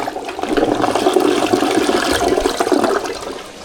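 A Toto Drake toilet flushes with a loud, close rush of swirling water that builds and holds for a few seconds, then tapers off into a quieter drain.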